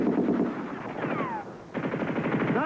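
Rapid machine gun fire in a war scene from a 1980 TV movie, a steady stream of quick bursts with a short pause in the middle, loud and continuous, with a faint whine sweeping across it.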